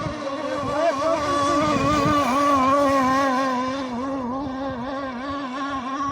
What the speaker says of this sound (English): Diaphragm's getting ready to go in that motor the way she's throbbing like that